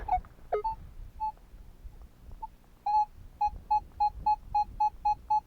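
A Minelab X-Terra Pro metal detector gives steady repeating beeps, each a short clear tone of the same pitch in an even rhythm, after a few scattered beeps earlier, with faint outdoor handling noise underneath.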